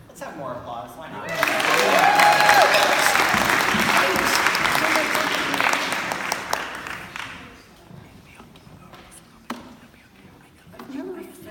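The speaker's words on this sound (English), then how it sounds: "Let's have more applause." A fresh swell of applause from an audience at an LGBTQ+ storytelling show, dense clapping lasting about six seconds before thinning into scattered claps, with a voice before and after.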